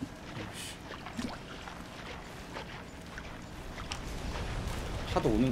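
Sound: ocean waves coming ashore in Don't Starve video game

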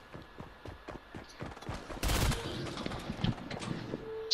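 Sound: gunfire in a video game

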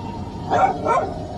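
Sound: dog barking

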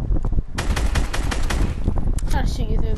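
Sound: gunfire, shooting at a wall

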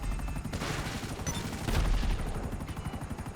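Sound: gunfire in video game GTA V

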